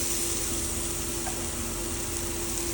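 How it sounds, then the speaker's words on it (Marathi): Onion, potato and a ground paste of mint, coriander, green chili, ginger and garlic sizzle steadily in a pan, a continuous close frying hiss with no voices. "थोडा असं रोस्ट करते, फ्राय करते मसाल्यांसोबतच ह्या किरव्यामध्ये"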